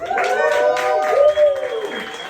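A small crowd at a comedy show in Jarrod's coffee shop applauds and cheers, with steady clapping and a few high whoops running through the whole moment, close and fairly loud.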